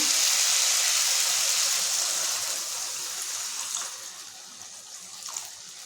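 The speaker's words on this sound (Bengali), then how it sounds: "এখন একটু জল দিয়ে দেবো" Water poured into a pan of egg and potato curry, a steady hissing pour that starts strong and slowly eases off over several seconds, close and with no voices.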